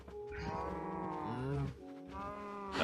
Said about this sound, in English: Let's go and make some cows have sex.